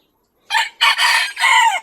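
A five-toed Ispenc rooster crows loudly and close by in one long, broken call, with no talk over it.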